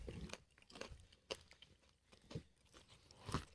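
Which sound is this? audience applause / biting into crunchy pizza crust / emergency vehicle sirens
biting into crunchy pizza crust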